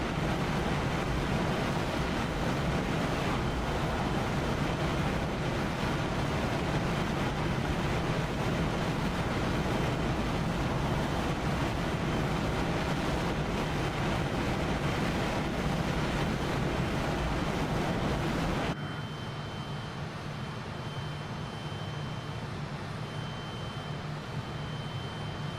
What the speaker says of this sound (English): These engines do sound very tasty